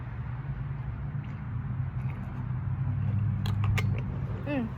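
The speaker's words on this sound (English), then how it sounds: "Sorry if you hear that noise. There's a truck" A truck passes outside as a faint, steady low rumble in the background that swells slightly near the end, with a few brief chirps and clicks on top.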